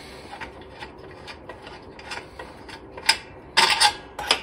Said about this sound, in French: Vous enlevez ensuite votre clé, vous dévissez le boulon